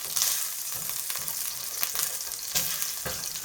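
Cumin seeds fry in hot oil for a spring onion curry, giving a steady close crackling sizzle dotted with sharp splattering pops throughout.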